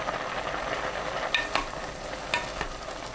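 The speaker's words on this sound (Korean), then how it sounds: "끓으면 중약불로 낮추고 가끔 저으면서 끓입니다" Quail eggs simmer in a braising sauce over medium-low heat with a continuous soft bubbling sizzle, broken by a few sharp spoon clinks and scrapes as the pot is stirred now and then.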